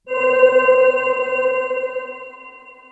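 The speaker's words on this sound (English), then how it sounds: "A little bit of delay." Sustained tone from a MicroDexed FM synthesizer with delay applied, a rich harmonic note starting cleanly, holding steady, then slowly thinning out over a few seconds, alone with no talking.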